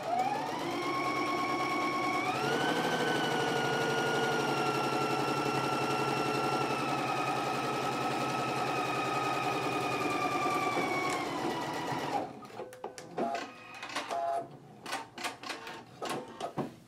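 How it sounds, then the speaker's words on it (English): A sewing machine stitches the side seams of a garment at a 5/8 inch seam allowance, a steady motor whir for about twelve seconds that then stops and gives way to scattered clicks and fabric handling. "now we can go ahead and stitch our side seams at a 5/8 of an inch seam allowance"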